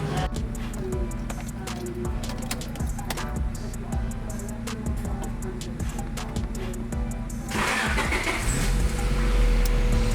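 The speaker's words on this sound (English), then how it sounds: "we're gonna start up the car" A car engine cranks and catches, then idles with a steady rumble and ticking, the heater on full blast after a thermostat replacement, growing slightly louder toward the end.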